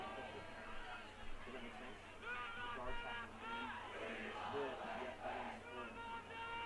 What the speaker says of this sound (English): Olympus defense is cheering and clapping